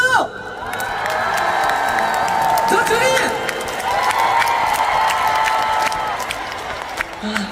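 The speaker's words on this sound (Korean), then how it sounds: "기분 좋은 만큼 함성과 박수!" Concert crowd cheering and clapping loudly after a song, shrill fan screams and whoops rising over steady applause, with a voice briefly heard amid the noise.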